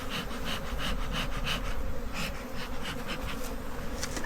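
Honeybees in an opened hive produce a dense, continuous buzzing close by, loud and steady throughout with no talk over it.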